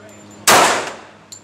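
A single sharp gunshot rings out at an outdoor shooting range, striking a metal target with a loud, bright clang that decays over about a second, followed by a faint metallic ping.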